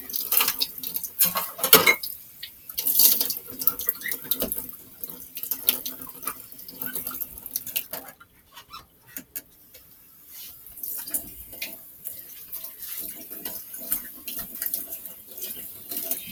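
Tap water runs into a sink being rinsed, a steady wash of splashing with faint clinks of dishes or metal, fairly close and uninterrupted by talk.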